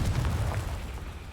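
Confringo blasting-spell explosion in Hogwarts Legacy, a brief heavy booming rumble that stays loud across the whole moment.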